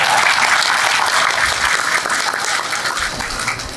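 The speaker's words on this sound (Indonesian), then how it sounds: "Kenapa Anda tepuk tangannya ragu-ragu?" Audience applause, a dense and steady wash of clapping from a crowd that holds at a fairly even level throughout.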